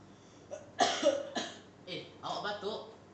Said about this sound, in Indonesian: Awak batuk?